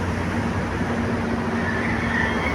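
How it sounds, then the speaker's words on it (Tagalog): A steady, loud rumble of an LRT Line 1 light rail train on a test run along the Baclaran-Cavite extension in Manila rolling past nearby, with a continuous mechanical drone and faint high-pitched wheel squeal. "LRT yan. Ilang train na tumadaan."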